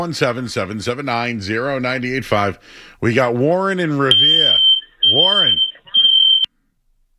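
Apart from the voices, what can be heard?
smoke alarm going off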